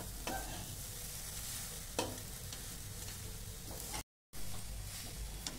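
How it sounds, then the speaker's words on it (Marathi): Jaggery is stirred into roasted coconut in a pan for a modak filling. A constant close sizzle runs throughout, broken by a few distinct spatula scrapes, with no voices. "आपण भाजलेल्या खोबऱ्यामध्ये गूळ परतून घेत आहोत।"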